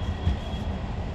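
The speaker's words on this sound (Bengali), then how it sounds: "ট্রেন অলরেডি ঢুকছে স্টেশনে" A Majerhat–Hasnabad local train pulls into a Kolkata station, giving a brief, low, steady rumble close by.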